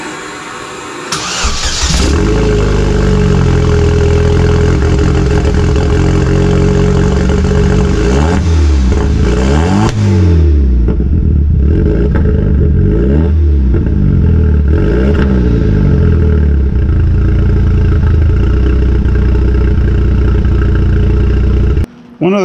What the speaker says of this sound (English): what this new exhaust sounds like, so let's fire it up and see.